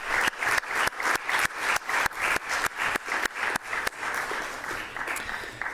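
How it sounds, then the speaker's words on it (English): Congregation applauds teachers at a church worship service, with sharp individual claps in a rhythmic run at first, then blending into softer, scattered clapping. "Let's give them a round of applause."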